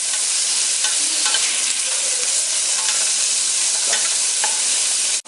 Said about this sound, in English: We're going to keep these onions moving. We want them to sizzle.